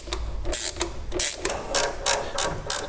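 A swivel-head ratchet wrench tightens an oil pressure fitting on the Mopar big-block engine of a 1968 Plymouth Satellite, giving about six short, close bursts of rapid clicking in a steady back-and-forth rhythm, with no talking.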